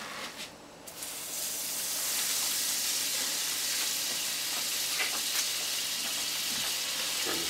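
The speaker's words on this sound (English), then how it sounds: "I guess I should throw some butter into the pan." Butter sizzling in a hot pan while cooking PEI mussels with garlic, a steady, close frying hiss that rises after a brief quieter start and continues without talk.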